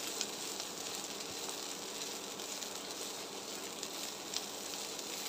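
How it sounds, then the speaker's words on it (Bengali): Dried fesha fish frying in a pan while being pressed down, giving a steady, even sizzle with faint crackles throughout, close and moderately quiet. "ফেঁসা মাছের শুটকিগুলো এভাবে দিয়ে চেপে চেপে ভেজে নিতে হবে।"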